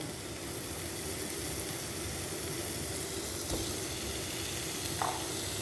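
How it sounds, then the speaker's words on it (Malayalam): Raw prawns fry in hot oil with a constant dense sizzle and hiss, close and even throughout, with a couple of faint clinks of utensils and no talking. "അപ്പോൾ ഞാൻ ഇനി ഇതിനകത്തോട്ട് ഈ ചെമ്മീൻ അങ്ങോട്ട് ഇടുവാണ്."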